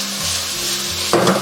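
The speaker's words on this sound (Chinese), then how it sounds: "最后来一点芝麻香油增香，翻炒均匀就可以了" Pork heart stir-fried in a wok with a splash of sesame oil, a steady close sizzle with a low hum beneath, then a louder burst of scraping and tossing near the end.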